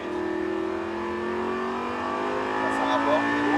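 A Lamborghini LP560-4 engine revs and climbs in pitch as it accelerates, a rising whine close by, with a voice talking over it.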